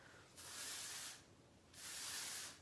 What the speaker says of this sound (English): a little bit of texture spray